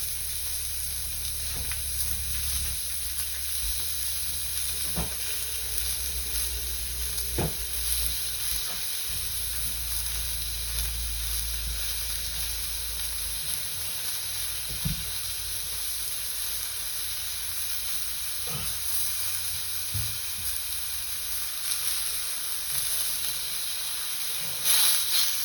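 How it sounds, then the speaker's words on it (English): Sausage browning in a skillet preheated over a medium flame. A continuous, even sizzle and hiss lasts throughout, broken only by occasional soft clicks and taps from the pan. "Get that sausage in there and get it browned up."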